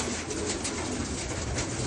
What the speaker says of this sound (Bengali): দেখছে যে নতুন কবুতর ছাড়ছি তো চলে আসছে